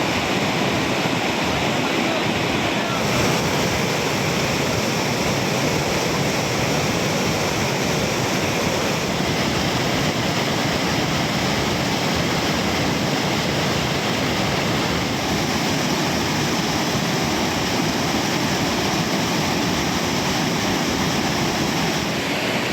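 Floodwater after heavy rain in the Western Ghats hills near Bodinayakanur, Theni, surging along the Kurangani waterfall stream that burst its banks, a loud continuous broadband roar and rush holding steady throughout.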